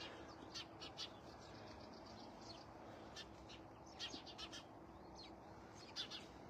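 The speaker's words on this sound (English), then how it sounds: "We have the birds in the background here providing music to go with the color." Birds chirp outdoors in short repeated calls, moderately distant, over a steady broadband background hiss.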